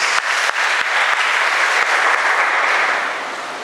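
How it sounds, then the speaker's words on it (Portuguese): A church congregation applauds at an evangelical service, a dense, steady wash of clapping from many hands that carries throughout and tapers slightly at the end. "Vamos aplaudir o Senhor em nome do Senhor Jesus."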